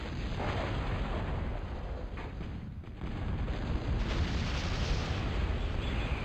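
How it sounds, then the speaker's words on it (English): Heavy rumbling explosion as an Arbitrator unit is destroyed in a 3v3 match of a real-time strategy video game, a dense, sustained boom with crackling debris that swells louder midway and keeps roaring to the end. "Boom, down goes that Arbitrator."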